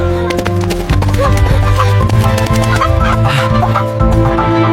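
A rooster clucking while being carried, repeated clucks over a dense, loud background with tonal music-like layers and shuffling.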